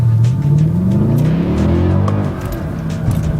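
A 2010 Mercedes-Benz E63 AMG accelerates hard in first gear, its engine note loud and close, rising steadily in pitch before easing slightly near the end.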